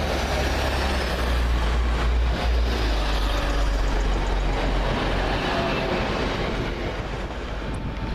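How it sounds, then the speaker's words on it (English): A TransPennine Express Class 185 diesel train runs at Doncaster station, producing a continuous low engine drone and rolling rumble with faint rail clatter, steady and moderately loud throughout. "The next one out, the 1537 first Transpennine Express service from Manchester Airport to Cleethorpes"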